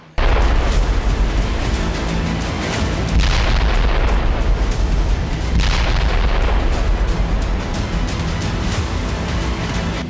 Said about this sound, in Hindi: अचानक ही जोरदार धमाका हुआ